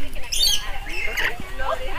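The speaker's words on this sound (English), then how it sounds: "God, this bird got some claws." A pet bird lets out repeated sharp, loud squawks and chirps close by, a few bursts spread across the moment, with a person talking nearby.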